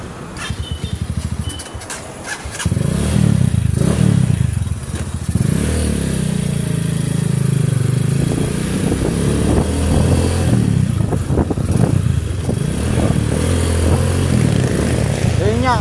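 A RUSI Sigma 250 motorcycle engine idles and revs up close, a loud continuous rumble with rising and falling throttle and some mechanical clatter.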